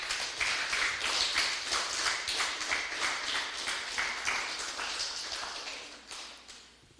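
A church congregation claps together in a steady run of applause, moderately distant and filling the room, tapering slightly toward the end, with no talking over it.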